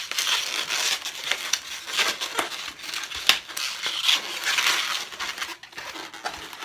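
Scissors snip and twist a latex balloon into a Yoshi balloon figure, giving close, crinkly rubbing and squeaking with small sharp clicks in a busy, irregular stream.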